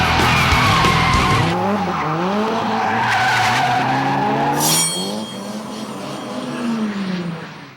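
A car drifts hard on a street in Osaka, Japan, with a long, loud tire squeal over a revving engine, the screech rising and falling as it slides.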